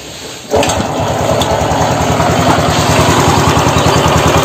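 A Honda Revo Fit motorcycle engine idles close up after its carburetor was cleaned and reset, starting abruptly and then settling into a loud, steady, rapid mechanical throb with no talking.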